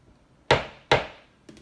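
A soap mold is tapped down on a surface: two sharp, close knocks about half a second apart, then a fainter third knock, each ringing briefly in an otherwise quiet room.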